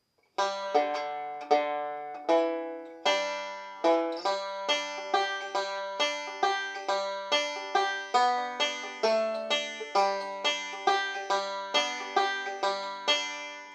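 A plucked banjo plays a quick, bright melody with steady rolling picks, notes ringing and decaying in an even rhythm, close and clear with no voices.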